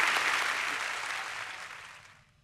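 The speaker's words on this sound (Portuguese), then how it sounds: "E vamos dar para Jesus uma calorosa salva de palmas." Warm audience applause at the close of a Brazilian news program, a bright dense clapping that starts full and steadily fades away to near silence over a couple of seconds.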